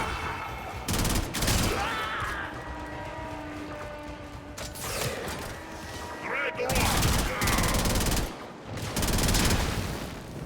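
Warframe gunfire rattles in repeated loud bursts and volleys, separated by quieter stretches where mechanical game effects and ringing tones fill the space.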